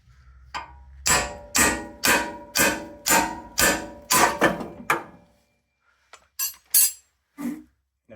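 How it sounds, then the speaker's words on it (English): Heavy strikes of a large hammer on a steering knuckle of a 2010 Ford Expedition ring out close by, about a dozen sharp blows in a steady rhythm, a short pause, then a few more hits. "Use a large hammer."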